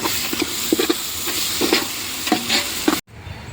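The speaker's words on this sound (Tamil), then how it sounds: "இப்போ நெக்ஸ்ட்டு இஞ்சி பூண்டு பேஸ்ட் வந்து ஆட் பண்ணிக்கலாம்" Ginger garlic paste sautéing in a hot pan during chicken biryani preparation, a steady close sizzle with repeated stirring scrapes, cutting off abruptly near the end to a quieter hiss.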